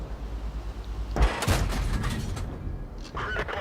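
A tank cannon fires once in World of Tanks, a sharp loud blast followed by a rolling, decaying boom and lingering battle noise, with game sounds before and after.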